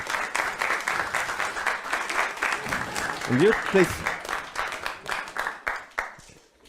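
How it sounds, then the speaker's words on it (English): Audience clapping for a volunteer at a magic theater show, a lively round of applause with someone speaking briefly over it partway through before the clapping fades out. "Big hand of applause for Nick."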